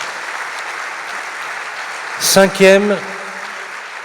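An audience at a professional conference applauds, a steady, moderately faint wash of clapping that runs throughout while someone speaks briefly over it.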